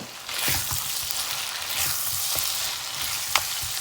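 Chicken being stirred with turmeric, whole cumin, salt and spices in a pot, with steady sizzling and scraping strokes of a spoon repeating every second or so, close and alone.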